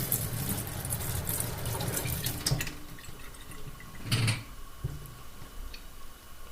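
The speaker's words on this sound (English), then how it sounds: "So I'm going to turn the faucet on." A repaired kitchen sink faucet turned back on, giving a steady hiss of running water that eases partway through, with one brief louder splash near the end and no voices.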